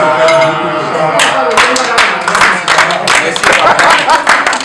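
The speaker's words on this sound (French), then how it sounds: "Les femmes applaudissent, vous applaudissez aussi." Men and women guests at a wedding celebration clap together, a dense, loud wash of applause that swells and carries on throughout, with scattered sharper claps standing out and voices mixed in.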